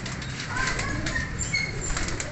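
Wings flap in rapid fluttering bursts, close by, with faint cooing and chirps from several pigeons in the background, at a pigeon sale in Faisalabad, Pakistan.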